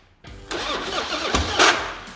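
A chopper motorcycle engine cranks and struggles to catch, starved of fuel, sputtering briefly and unevenly close by with no talking.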